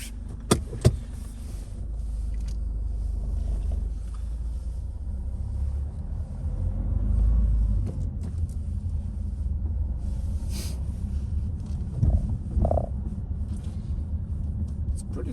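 Nissan Qashqai J10 on a test drive, heard as a steady low engine and road rumble from inside the cabin, with a few faint clicks and small interior noises over the top.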